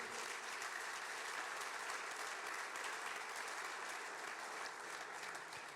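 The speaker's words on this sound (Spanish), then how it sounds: "Le da un aplauso a la palabra del Señor." A church congregation applauding during a Spanish-language service, a steady wash of many hands clapping at a distance, fairly faint and even throughout.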